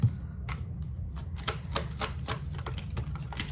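Quick clicking and flicking sounds of tarot cards being shuffled, irregular taps and riffles close up in a quiet room.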